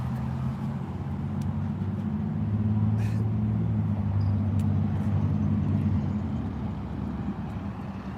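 A vehicle engine drones loudly and steadily for several seconds, close by, with a faint voice underneath.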